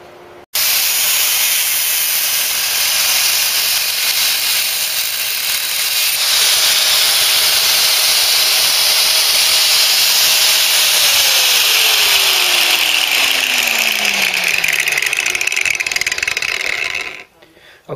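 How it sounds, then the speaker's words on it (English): An angle grinder fitted with a slip disc cuts into stubborn bumper strip mounting bolts on a Ford Cortina Mk3 under restoration, giving a loud, sustained hissing grind that runs for most of the clip before the motor whines down and stops. "let's see if we can split these troublesome bumper mounting bumper strip bolts. So I'll load up now the slip disc and angle grinder"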